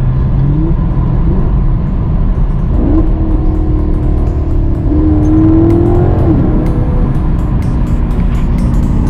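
A Maserati GranTurismo sports car engine revs loudly, its pitch climbing and dropping in repeated bursts, close and continuous.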